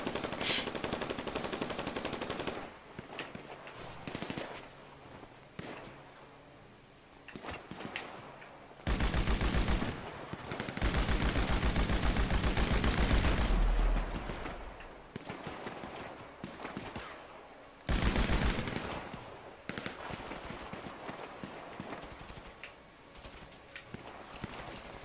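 Bursts of automatic gunfire from a weapon in GTA V's Boneyard survival mode, with long loud sustained volleys alternating with shorter sharp bursts and quieter gaps, heard without talk.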